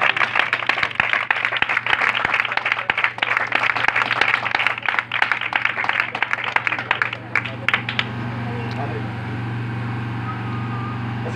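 A church congregation breaks into loud applause during a sermon, dense clapping for about eight seconds that then stops abruptly, leaving a low steady hum and faint room noise.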